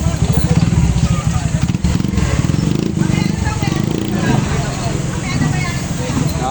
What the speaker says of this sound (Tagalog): Talagang motor eh.